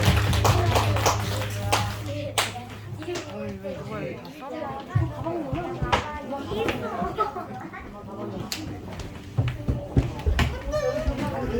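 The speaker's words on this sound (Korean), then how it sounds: "우리 하나님의 영광의 박수를 주시기 아멘." A church congregation at a Sunday combined worship service claps briefly, with scattered taps and clapping mixed among chatter, children's voices and people moving chairs, mostly masked under talking.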